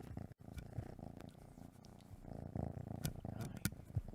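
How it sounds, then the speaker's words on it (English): Two cats, Ash and Smokey, purring close up in a steady rumbling drone, with a few soft brief clicks and rustles over it and no talking. "now they're purring like crazy"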